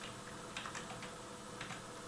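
Someone types on a computer keyboard at a Linux terminal, a few quiet scattered keystrokes over a soft background hiss.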